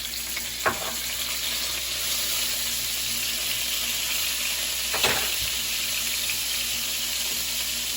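Minced garlic sizzles and fries in a hot pan with a steady hiss, broken by a couple of brief clacks of a utensil stirring.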